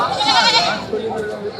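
Sheep bleat at a crowded livestock market in Ranipet, Tamil Nadu, ahead of Bakrid, with nearby voices and constant chatter running beneath the animal calls.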